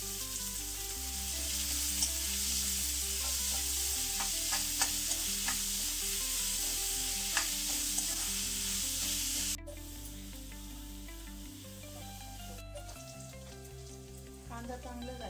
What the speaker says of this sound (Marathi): तेल गरम झालेलं आहे. कांदा टाकते मी.